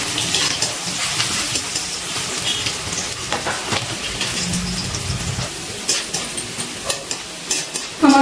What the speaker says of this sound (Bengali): গ্যাসের ফ্লেমটা হাইতে দিয়ে পেঁয়াজটা ভেজে নিচ্ছি।